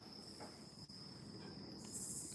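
Crickets chirp steadily in a forest at night, a thin, continuous high trill held at the same pitch from start to end, faint and fairly distant, with no voices.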